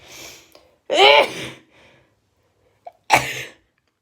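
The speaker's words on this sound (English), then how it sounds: "All I can do is sneeze now" A single sneeze bursts out loud and close, framed by a softer breath before it and a sharp second sneeze-like exhale near the end, with quiet gaps between.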